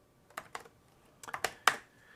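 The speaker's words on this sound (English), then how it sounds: "What is going on with this keyboard?" Typing on a computer keyboard, a few sparse close key clacks, two single taps followed by a quicker burst of three or four strokes ending in one louder hit, in a quiet room with no talking.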